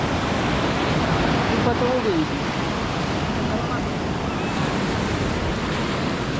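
Steady, heavy roar of stormy Black Sea surf at Anapa crashing and rolling without pause, with wind noise on the microphone and a voice speaking briefly over it.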